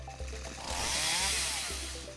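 The chainsaw of a chainsaw monster enemy in a roguelike video game revs up loudly, a buzzing whine that rises and swells in the middle, with low engine idle before and after.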